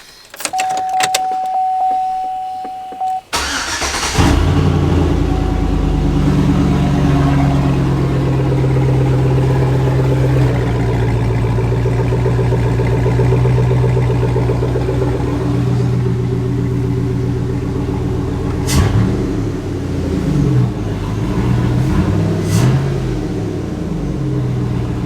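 A gasser car with a newly fitted huge exhaust starts up after a few seconds of quiet, then idles loud and steady with a deep rumble, blipping the throttle into short revs near the end.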